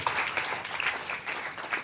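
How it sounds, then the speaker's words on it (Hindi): Applause from an audience at a business closing event, moderately loud and steady throughout, with a scattered patter of many hands and no one speaking over it. "मैं चाहूंगा सर के लिए एक बार जोरदार तालियां हो जाए दोस्तों।"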